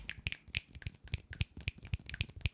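Several people snap their fingers in a quick, uneven patter of sharp clicks that overlap and continue steadily, with no talking.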